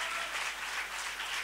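A church congregation applauds together in steady, dense clapping that holds evenly throughout, with no voices standing out.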